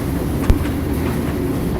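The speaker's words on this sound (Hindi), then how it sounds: "रोज की तरह ट्रेन नंबर 653 पाम्बन स्टेशन से धनुषकोडी रेलवे स्टेशन के लिए निकल पड़ी।" A passenger train rolls along the rails with a steady, loud rumble and rattle throughout, marked by one brief heavy clunk near the start.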